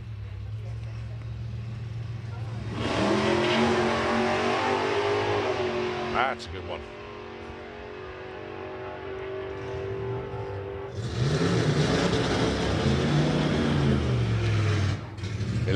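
Drag racing car at Santa Pod accelerating down the strip, a loud, roaring engine surging in two long waves with gear-change dips, heard under a commentator's talk.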